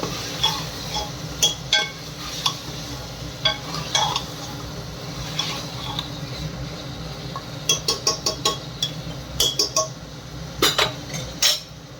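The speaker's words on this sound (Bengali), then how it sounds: "মাংসটা দিয়ে ভালো করে কষিয়ে দিই।" Mutton stir-fried in a pan, with a steady low sizzle under repeated scraping and clanking of a spatula against the metal, in bursts throughout, close and without talk.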